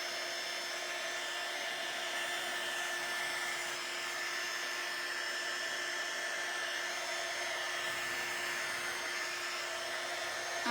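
A hair dryer blows continuously and loudly at close range while drying an upcycled rolling pin, giving a steady, even whine and rush of air throughout, with no speech.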